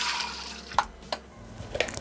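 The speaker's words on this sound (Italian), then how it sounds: "Iniziamo la ricetta mettendo all'interno del boccale l'acqua" Water is poured into the mixing bowl of a Thermomix, a short trickling pour with a couple of sharp splashy plinks as it lands in the jug.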